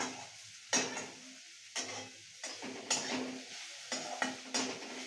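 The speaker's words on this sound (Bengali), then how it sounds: "বাঁধাকপিটা মা ভালোভাবে নেড়ে নিয়েছে" A spatula stirs and scrapes cabbage paratha filling in a frying pan, with about eight distinct scraping strokes at a steady rhythm over a soft sizzle, close and alone.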